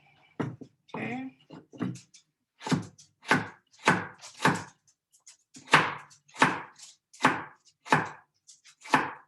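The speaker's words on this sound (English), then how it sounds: "I'm going to cut it in little squares." Kitchen knife chopping carrots into small squares on a board, a series of crisp, evenly spaced chops close up, steady rhythm with short pauses, no talking over it.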